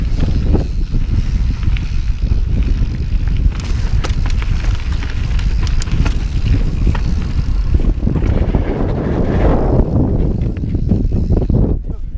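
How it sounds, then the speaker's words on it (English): Strong wind roars and buffets the microphone during a boat ride, a loud continuous rush with gusty surges and rumbling throughout, no talking. "The wind, and that's what you're paying for."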